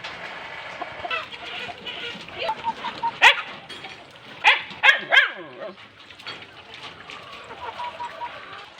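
Roosters cluck and call in short bursts amid steady background chatter, with a few sharper calls standing out midway and a dog barking nearby.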